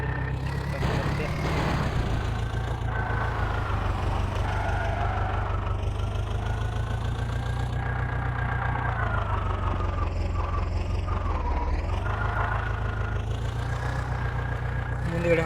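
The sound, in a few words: tractor engine running, from a video game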